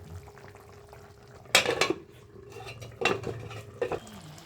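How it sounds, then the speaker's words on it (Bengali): A lid clatters down onto a cooking pan of Bengali-style sobji chorchori, a mixed vegetable dish with radish, giving three or four sharp metallic knocks and rattles close by over a low kitchen background. "এবার আমরা ঢেকে দিই এটাকে আবার"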